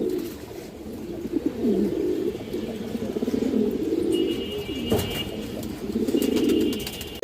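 Mushaldom and silver pigeons cooing, low throaty coos repeating in rolling phrases nearby, with occasional faint high chirps and a brief flutter around the middle.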